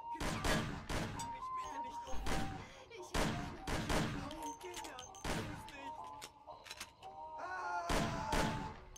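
Loud gunshots in the video game Mafia fire in repeated bursts, each a sharp blast followed by echoing rumble, spaced about a second apart.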